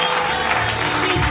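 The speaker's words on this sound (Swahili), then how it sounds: "Makofi kwa Yesu." A church congregation claps together in worship, praising Jesus: a dense, continuous wash of many hands close by, steady and loud throughout the short burst.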